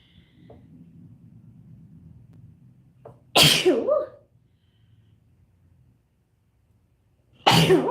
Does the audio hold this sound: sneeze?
yes